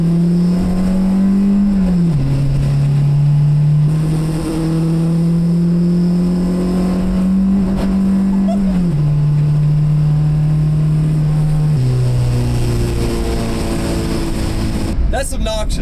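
An Acura Integra project car on a test drive, its engine droning steadily and loudly with gear-shift dips and revs rising and falling, while people talk over it inside the cabin.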